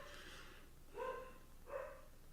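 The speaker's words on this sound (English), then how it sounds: "My dogs are going crazy." Dogs barking a short distance off over a steady low hum, two separate bursts of yips and barks in a garage setting.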